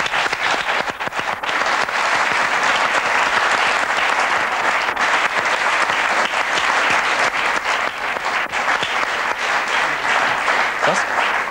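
Sustained, dense applause from a studio audience on a German TV talk show fills the whole stretch at a steady, loud level, with no voices rising above it.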